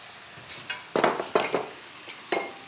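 A spoon stirring tomato-flavoured chicken broth in a pot, giving a few separate scrapes and clinks against the metal at close range, with quiet pauses between the strokes.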